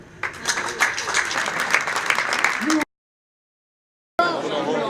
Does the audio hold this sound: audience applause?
yes